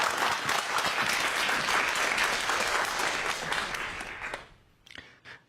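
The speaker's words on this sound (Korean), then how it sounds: "박수 부탁드릴게요." An indoor audience at a lecture event gives loud, sustained applause that fades out after about four seconds, leaving a few scattered claps at the end.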